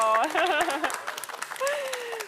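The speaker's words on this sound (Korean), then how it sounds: "여러분, 약속을 지킨 재원 학생에 다시 한번 감사의 박수 부탁드려요." Brief audience applause at a church youth event greets a student, heard under a speaker's voice and fading quickly.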